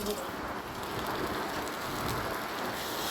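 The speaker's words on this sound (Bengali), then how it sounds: "এখন ভালো করে এটাকে অনেকক্ষণ ধরে এটাকে ভেজে নিয়ে নিতে হবে।" Taro flowers frying in a pan, a steady soft sizzle and crackle that holds evenly throughout, fairly quiet and close, with no talking.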